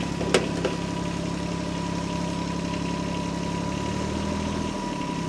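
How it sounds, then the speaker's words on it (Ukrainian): A Yanmar F6 diesel tractor engine idles steadily up close with a low, even rumble and faint knocking texture. No voices are heard. "Свічі розжарювання у нас просто повністю автоматичні. Чекаємо, поки згаснуть і і заводимо."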